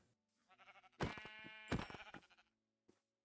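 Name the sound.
sheep bleating in video game Minecraft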